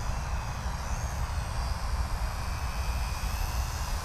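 Wltoys Q919A RC flying tank running its motors at full throttle, a steady high-pitched whine with broadband rush, constant and fairly loud throughout with no talking.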